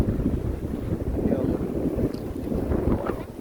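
Heavy wind roars and buffets the microphone continuously, a dense low rumble with no pauses.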